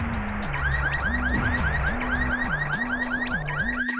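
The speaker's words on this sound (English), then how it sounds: "All the enemies here make a car alarm noise." Enemies in the Nintendo 64 game Bomberman Hero sound a car-alarm noise, a looping electronic siren cycling up and down in pitch with overlapping chirps, continuous and loud, without voices.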